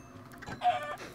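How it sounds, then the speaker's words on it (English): Chickens cluck in the Minecraft video game, a few short, soft clucks close together over a quiet background. "Gotta get some of these chickens to be gone."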